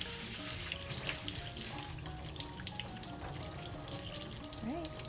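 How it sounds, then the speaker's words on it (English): Tap water runs steadily into a sink as rice is rinsed for a Cuban meal of rice and beans, a continuous close splashing stream with faint clinks throughout. "you're just gonna give it a good rinse until the water you see here"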